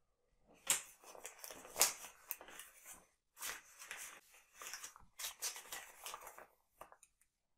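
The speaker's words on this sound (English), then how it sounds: "Put the letter in the envelope." A paper letter slides into a paper envelope with soft rustling, scraping and crinkling, heard close up in several separate bursts with short pauses between them and no voices.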